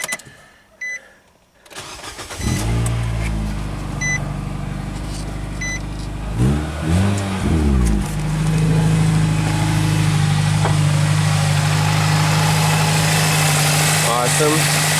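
A Nissan car engine, just after an A/C clutch repair, cranks and catches, then settles into a steady close idle with a couple of brief revs before evening out.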